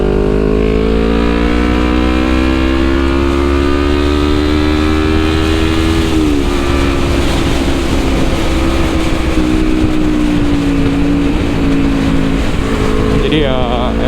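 Loud, steady engine drone of heavy, slow traffic on Gatot Subroto road in Jakarta, with layered motor hums shifting pitch as vehicles creep along, and a brief sharp rattle near the end.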